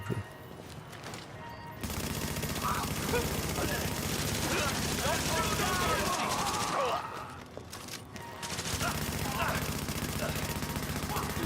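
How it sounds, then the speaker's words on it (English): Gunfire from a shooter game, The Division, with sustained rapid bursts and a dense clatter of shots through most of the stretch, broken by short lulls, over a steady game soundscape. "It's a weird sounding gun that guy had to my right."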